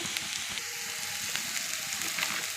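Cabbage and fresh coconut stir-fry cooking in a pan, giving a steady, soft sizzle close by with a few faint stirring touches and no one speaking.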